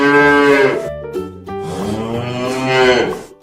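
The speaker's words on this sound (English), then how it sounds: "bull," A bull lets out a loud, close, drawn-out moo, then a second long, deep bellow after a brief pause, with no other sound around it.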